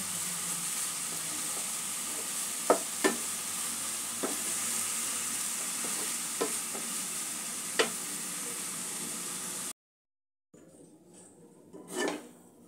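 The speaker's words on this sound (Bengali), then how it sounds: "নারকেলের পুরটা কড়া থেকে ছেড়ে আসা পর্যন্ত পুরটা আমি তৈরি করে নেব" Coconut and jaggery filling for sweet potato pitha is stirred in a wok over heat, a steady sizzle with occasional sharp taps of the spatula against the metal, close and even, ending in a brief pause and a few softer scrapes.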